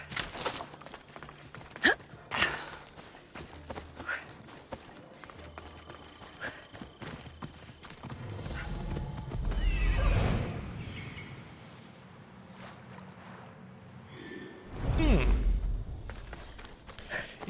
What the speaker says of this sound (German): Dann holen wir unser Pferd.